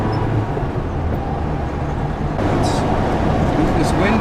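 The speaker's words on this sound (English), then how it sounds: "you just hear the engine trying to work hard at doing 80 kilometers an hour" A 1972 Peugeot 204 engine working hard at 80 km/h, heard from inside the car as a steady low drone with road rumble and some wind noise, constant throughout.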